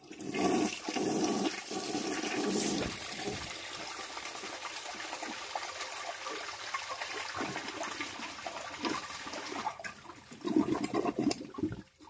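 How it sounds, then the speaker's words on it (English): A 1974 American Standard Cadet toilet with an old Fluidmaster fill valve and worn flapper flushes with a loud gushing rush, settles into a long steady swirl and drain, then surges again near the end as the tank refills. "Here is the first flush on camera."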